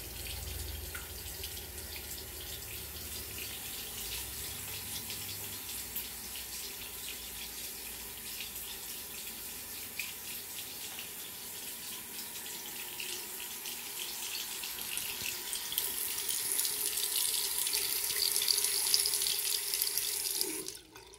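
A tap runs steadily into a sink, a continuous hiss of flowing water with faint drips, lasting the whole stretch and swelling slightly near the end before cutting off.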